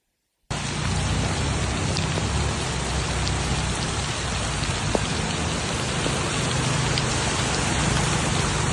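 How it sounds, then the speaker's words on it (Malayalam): Heavy monsoon rain pours steadily and densely in Kerala's hill country, a loud continuous hiss of drops hitting surfaces over a waterlogged road, with no voices. "മഴ കനത്തതോടെ നിർമ്മാണത്തിലിരിക്കുന്ന കാളികാവ് പൂക്കോട്ടുംപാടം റീച്ചിന്റെ ഭാഗം പൂർണ്ണമായും വെള്ളത്തിൽ മൂടി"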